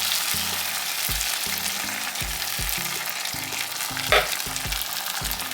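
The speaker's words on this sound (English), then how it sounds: "Next, we're gonna add some tomato sauce." Tomato sauce goes into a sizzling fish stew, giving a steady bright frying hiss with regular low scraping stirs of a spoon against the pot and a brief louder spatter.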